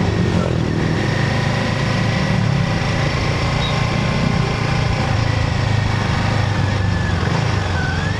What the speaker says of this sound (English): so I can simultaneously record my voice and the engine sound